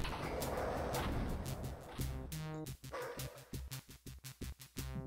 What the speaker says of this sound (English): It might just be dogs in there, though.